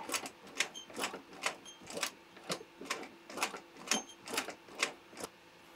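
An industrial walking foot sewing machine, a Consew, is turned slowly by hand through denim, giving about a dozen evenly spaced, crisp mechanical clacks at a steady rhythm, fairly faint and close with no talk.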